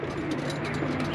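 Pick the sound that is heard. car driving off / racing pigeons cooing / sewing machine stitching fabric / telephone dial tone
racing pigeons cooing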